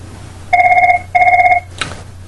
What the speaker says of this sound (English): that phone and this phone should both start ringing